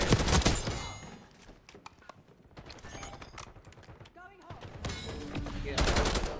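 Automatic AK rifle fire in Call of Duty: Black Ops 6 rattles in rapid bursts amid other in-game gunfire, mixed with game sounds.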